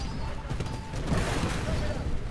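A rocket launcher fires in the video game Titanfall amid a dense, rumbling wash of battle noise, with a voice talking over the steady din.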